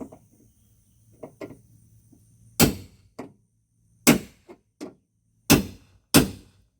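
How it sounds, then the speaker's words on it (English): Several sharp metallic hammer strikes knocking the center out of a rivet on a Ford truck door, spaced irregularly with quiet gaps between them, a few lighter taps mixed in, close by. "We got to knock the center out of this rivet"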